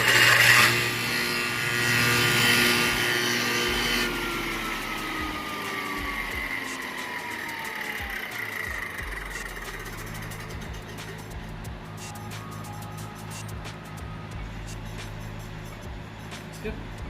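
A table saw fitted with a dado stack blade runs free before cutting, a steady mechanical hum and whine near at hand that eases off in pitch partway through, with a faint rubbing rasp beneath.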